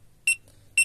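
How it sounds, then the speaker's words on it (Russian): Two sharp electronic beeps from an airsoft bomb timer, running at double speed after a wire is cut, close and clear with near silence between them. "Этот на ускорение таймера, он в два раза быстрее начинает тикать"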